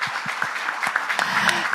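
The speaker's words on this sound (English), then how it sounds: "So please, a good round of applause for the excellent." Applause from a conference session audience, a short burst of scattered clapping at moderate level, lasting under two seconds.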